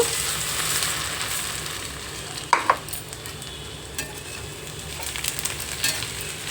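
Cornflakes fry in hot oil over low heat for a puffed-rice muntha masala street snack, making a steady close sizzle broken by a few sharp spatula clinks and stirring scrapes.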